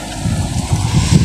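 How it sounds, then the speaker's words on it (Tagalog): Wind blowing outdoors, rumbling and buffeting against the microphone in steady loud gusts for a short moment, with no voices present. "So medyo mahangin."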